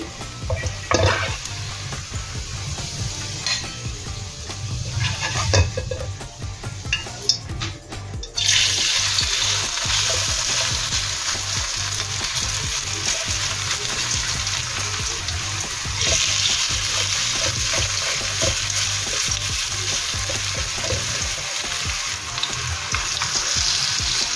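Papaya okoy fritters frying in hot oil, a continuous bubbling sizzle that swells louder partway through, close and steady with occasional clatter.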